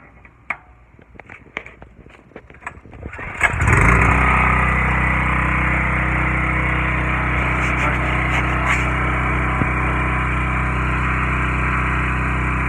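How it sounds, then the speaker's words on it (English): A Sportsman 4000/3500-watt dual-fuel portable generator starts after a few rattling clicks, then its engine catches and settles into a loud, steady, close running drone. "once the generator starts up and is idle, then you put it in the run"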